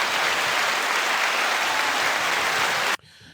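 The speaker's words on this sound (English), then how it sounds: "let's get the claps" A burst of applause from a crowd or a sound effect plays as dense, loud, continuous clapping that stops abruptly, followed by a quiet murmur.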